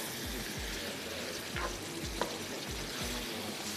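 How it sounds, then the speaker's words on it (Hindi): Cabbage and mutton fry in a pot for a gobhi mutton handi, a steady close sizzle broken by a regular series of scraping stirs, about one every half second. "थोड़ी सी इसकी भुनाई करते हैं।"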